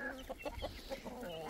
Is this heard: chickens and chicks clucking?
yes